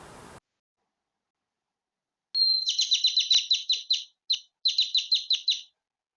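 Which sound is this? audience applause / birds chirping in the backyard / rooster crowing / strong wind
birds chirping in the backyard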